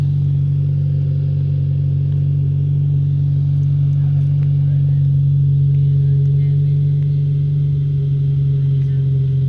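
Modified Hyundai Veloster engine and exhaust hold a loud, steady drone close to the microphone, its pitch nearly constant throughout with little sign of revving.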